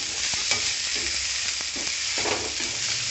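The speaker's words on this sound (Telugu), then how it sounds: "బాగా వేపిన తర్వాత టమాటాలు యాడ్ చేసుకుందాం. యాడ్ చేసుకున్నాక కలుపుకుందాం." Mutton iguru masala frying on low flame with tomatoes added while a spoon stirs through it, giving a steady sizzle with soft scraping strokes against the pan and no voices.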